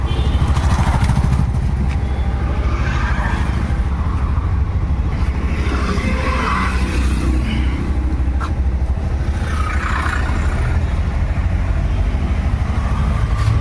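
Auto rickshaw engine running steadily after a clutch wire change, pulling into motion as the clutch is released; a loud, continuous close-up drone with no talk over it.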